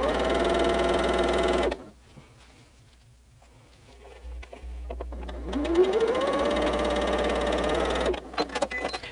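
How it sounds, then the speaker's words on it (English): A sewing machine runs in steady bursts while quilt pieces for a barn star block are batch sewn, with loud stitching at the start and end and a quieter pause in between. "When you're batch sewing several pieces that are supposed to be just the same"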